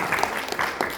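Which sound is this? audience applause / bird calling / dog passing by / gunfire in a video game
audience applause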